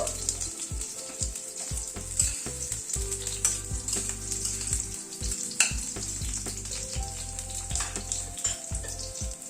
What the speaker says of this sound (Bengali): প্রথমে আলুটাকে একটু ফ্রাই করে নেব।